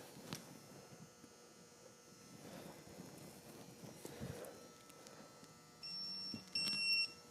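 Faint electronic beeps sound near the end, one short tone then a second slightly louder one, over low background hum and light handling noise.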